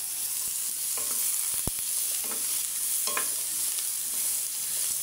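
Sautéed vegetables, pechay and radish, being stirred in a little oil, with a steady soft sizzle and a few distinct spoon scrapes against the pan, close and fairly quiet throughout.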